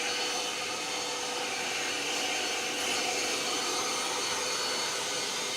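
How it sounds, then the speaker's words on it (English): A shop vacuum fitted with an air filter sucks up small bits of rust, a loud, steady broadband rushing roar held close and unbroken throughout, with no voices. "I'm going to vacuum up just the little bits of rust that are left"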